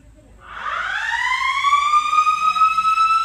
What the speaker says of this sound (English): you can hear the fire alarm ringing now.